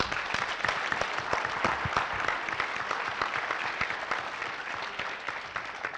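Audience applause for a panelist at a 2015 speaker event, steady crisp clapping from a sizeable crowd, individual claps distinct and fairly close, continuing evenly throughout.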